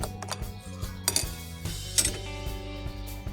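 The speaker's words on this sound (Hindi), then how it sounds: "अब मैं गिलास में डालती हूँ" Mango juice with ice cubes pours into a glass, with clinks and rattles of ice against glass over a steady liquid pour and a low hum, close and moderately loud, with no talk.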